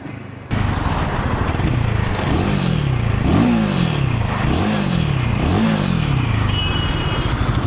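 Royal Enfield Himalayan 450 motorcycle with about 5,000 km on it, a throaty engine running loudly and close throughout, with repeated rising and falling revs in a steady rhythm over constant engine drone, with no talking.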